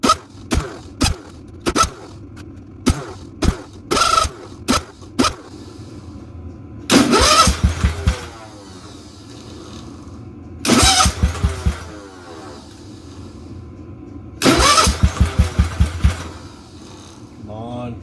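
A 1971 Wheel Horse tractor engine cranks repeatedly without catching. Short starter bursts come first, then three longer cranking attempts with rhythmic chugging, all close and loud, with pauses between.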